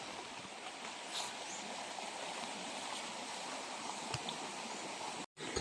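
River flowing beside a mountain trail on Mt. Swelin, a steady broadband rush of water close by, constant throughout with a brief dropout near the end.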